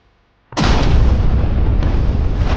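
A sudden massive nuclear blast in the video game WorldBox erupts after a brief silence, then sustains as a thick, roaring wall of noise without fading.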